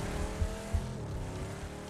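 A stolen car speeds away in the PUBG video game, its engine revving and droning loudly for the whole stretch, with a couple of short thumps and no voices.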